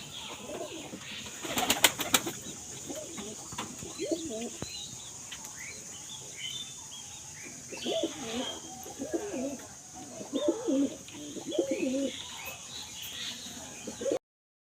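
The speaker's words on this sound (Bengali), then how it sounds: "দেখেন এক এক করে কিন্তু আসলে কবুতরগুলো আসা শুরু করছে" Pigeons cooing in repeated soft, throaty bursts, several birds close by, with a brief flutter of wings near the start.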